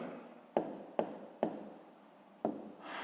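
A pen writes numbers on paper in a maths exercise, giving short scratchy strokes punctuated by about four sharp taps as the pen meets the page, close and quiet.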